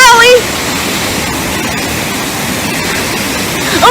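Rushing, splashing water fills the space at a water park as people splash about, a dense, loud, continuous wash of spray, with brief voices squealing at the very start and end.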